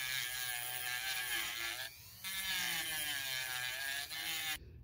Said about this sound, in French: À l'aide d'une Dremel, je suis venu couper les chemins et enlever les petits défauts.